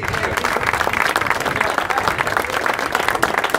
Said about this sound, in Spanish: Y vamos a coronar con un aplauso.